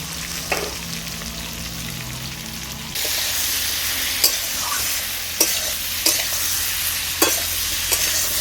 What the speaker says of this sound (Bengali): কুমড়ো আর আলুটাকে কিন্তু আমি বেশ ভালো করে দেখো ভাজাভাজি করে নিয়েছি